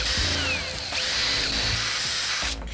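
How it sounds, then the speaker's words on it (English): A power drill fitted with a step bit countersinks a hole in wood, giving a loud, continuous close-up whine that wavers slightly in pitch as the bit cuts. "step bit for the countersink. I love using this as a countersink."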